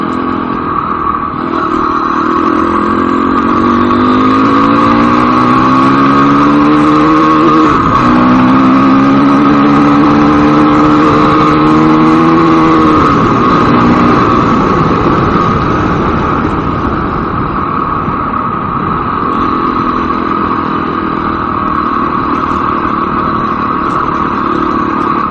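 Motorcycle climbing Mt Como toward Smith Valley, its engine revving up and down in repeated rising sweeps, loud and close with steady wind-like roar underneath, no talking.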